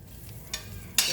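Minced garlic hits melted butter in a pan, giving a soft, faint sizzle with two brief louder bursts of crackle, the second stronger and lingering to the end.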